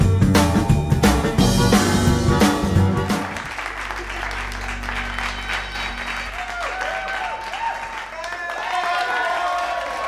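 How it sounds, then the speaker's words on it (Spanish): An audience on a televised talent show claps and cheers as a performer is introduced. Loud music plays at first, then the crowd's applause continues while a voice talks over it. "recibamos con un fuerte aplauso a Damian Black."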